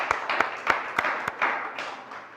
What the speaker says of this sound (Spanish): Y el que lo cree dice amén y le da un aplauso al Señor.